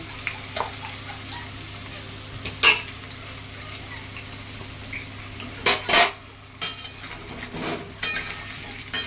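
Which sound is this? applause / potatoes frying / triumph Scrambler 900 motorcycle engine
potatoes frying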